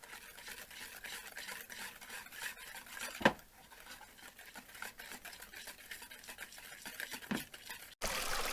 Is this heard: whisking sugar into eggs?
yes